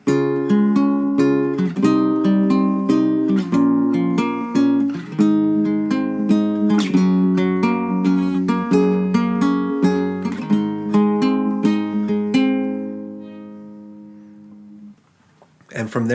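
Acoustic guitar strummed without a capo through a chord progression, steady rhythmic strokes ringing close and loud, ending on a held chord that fades out, with no talking.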